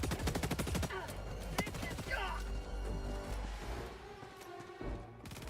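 Rapid automatic gunfire in Helldivers 2 aimed at an enemy's leg, a fast, loud volley of cracks in the first second followed by scattered shots and impacts, with voices talking over the combat.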